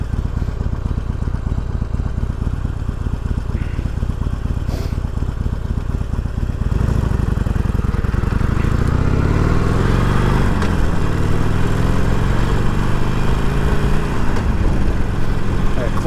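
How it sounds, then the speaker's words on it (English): A 2019 Harley-Davidson Iron 1200 Sportster rides along with a loud, steady engine rumble that rises and falls as it shifts through gears, the pitch sweeping upward, with someone talking over it. "When you're kicking that thing into gear, you can hear it, you can feel it."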